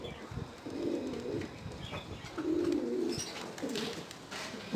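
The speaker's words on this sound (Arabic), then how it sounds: "الحمام هو بدا يدخل، ها هو بدا كيدور." Pigeons coo softly as they enter their coop, giving three low, rolling cooing phrases with faint wing flutters and rustling in between.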